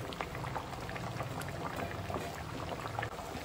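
Goan oyster xacuti with okra and coriander added on top cooks covered in its own steam, a steady dense bubbling and sizzling close by with fine popping throughout and no voices.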